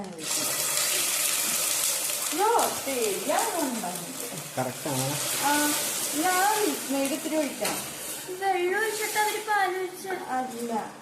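Liquid splashes into a hot frying pan and sets off a lively sizzle and bubbling, with a spoon stirring now and then, while a voice talks over the cooking noise.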